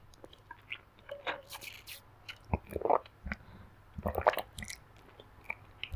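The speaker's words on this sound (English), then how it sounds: "I'm sipping from my blue, well, it's teal, Stanley cup" Close, wet mouth sounds of sipping water from a teal Stanley cup, with a few soft separate sips and swallows over a faint low background hum.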